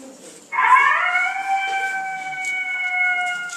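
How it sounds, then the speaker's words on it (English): A recorded coyote call played back during a wolf presentation at an Audubon sanctuary: one high, sustained howl that starts abruptly and holds a steady, clear pitch at moderate loudness, alone with no talking. "Here's a coyote."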